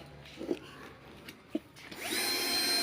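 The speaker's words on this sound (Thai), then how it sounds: "นี่กำลังจะเจาะกะลาเท้านะครับ" A power drill bores into a coconut shell while children make a lamp from scrap materials. A few short knocks come first, then the drill starts near the end and runs with a steady, loud whine.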